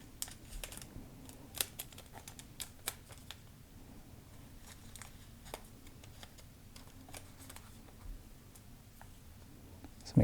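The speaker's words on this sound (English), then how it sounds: "We're going to take this tape and we're just going to wrap around it" Tape is wrapped around a handmade watch pillow, with faint, quiet crackles and sharp little clicks scattered irregularly across a soft background and no talking.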